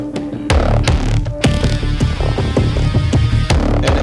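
Video game music plays with rhythmic percussive hits and layered tones building in intensity as more enemies approach, continuous and fairly loud with no talking.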